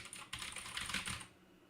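Soft, quick tapping on a computer keyboard makes a brief, faint burst of keystrokes that ends after about a second. No voices.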